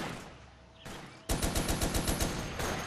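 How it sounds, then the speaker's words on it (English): Turret gunfire in the Toy Soldiers: War Chest video game: after a brief quieter lead-in, a loud rapid burst of evenly spaced shots starts and rattles on steadily to the end. "I guess I'll control this turret."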